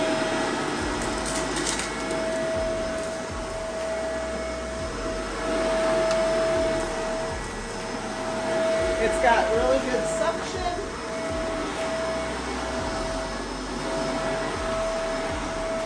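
A Shark Rotator Powered Lift-Away NV752 vacuum cleaner runs on carpet with a steady, moderately loud motor drone and brush rumble that shifts slightly as it is pushed about. A voice talks over it.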